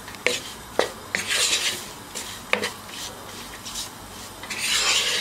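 A spoon scrapes and stirs prawn fry with curry leaves in a pan, giving several sharp metallic clinks and rasping scrapes against the metal, with a soft sizzle building toward the end.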